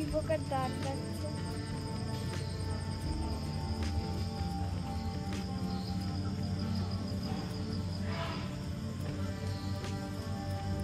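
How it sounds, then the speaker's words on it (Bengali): Crickets chirp at night around a rural retreat at Kakrajhor, a steady layered trilling with pulsing insect calls over a low background hum, moderately close and uninterrupted. "আর ঝিঝি পোকার ডাক ডাকছে।"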